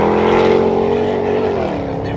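Supercharged V8 rear-wheel-drive sports car sliding sideways with its rear tires burned away, giving a steady loud engine roar mixed with tire noise, close and continuous.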